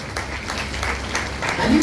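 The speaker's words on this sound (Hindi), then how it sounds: "हम चाहेंगे एक बार हमारे अजीत सर के लिए एक बार जोरदार ताली बजाइए" An audience at a business success-story gathering claps loudly and steadily for a speaker, a dense, sustained round of applause with crowd murmur beneath.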